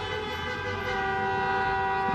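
Sustained honking of vehicle horns in a German street at night after a Turkish football victory, a continuous blaring drone of overlapping horns close by.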